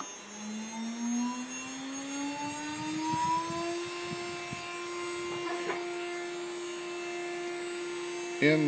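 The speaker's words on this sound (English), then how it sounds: "using the Modbus, you can control the spindle speed." A CNC router spindle controlled over Modbus whines steadily as it spins up, its tone rising over the first few seconds and then holding a constant pitch, with a brief clatter near the end.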